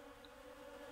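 A short, steady bee buzz hums quietly and evenly for under a second, with no speech over it.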